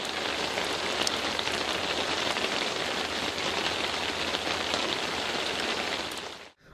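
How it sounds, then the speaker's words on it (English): Heavy rain pours down on a road in a dense, unbroken hiss of drops striking surfaces, loud and steady throughout before cutting off abruptly at the end, with no voices. "rain pouring down"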